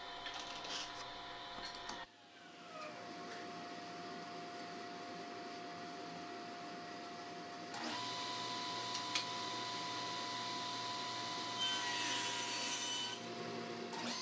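Saw cutting leftover wood stock to size on a crosscut sled for a segmented turning ring: a steady whining cut running the whole clip, with a brief dip near the start and a louder, brighter stretch later as the blade bites.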